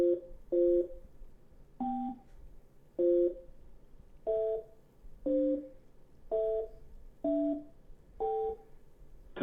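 Telephone keypad tones sound while dialing into Blog Talk Radio: eight short, evenly spaced dual-tone beeps in a steady rhythm, clear and close, with no talking.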